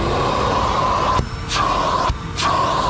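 A Bosch vacuum cleaner roars with a steady high motor whine close by, cutting briefly to a dull suction gulp twice as the nozzle is blocked and freed while cleaning a car.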